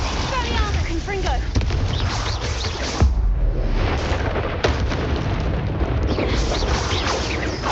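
A fire spell explosion in the Hogwarts Legacy video game gives a loud, close booming blast with crackling bursts and rumbling debris through the whole stretch, with a voice calling over the action.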